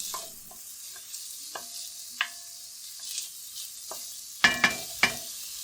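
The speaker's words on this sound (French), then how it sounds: "Je vais commencer par faire transpirer mes oignons avec l'ail." Onions and garlic sweat gently in a little oil in the bottom of a saucepan, a soft steady sizzle broken by scattered spoon scrapes and a few sharper stirring clacks near the end.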